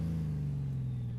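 Honda Goldwing DCT motorcycle engine pulling under light throttle during a slow tight turn, a steady low hum rising slightly in pitch, heard alone for a brief moment.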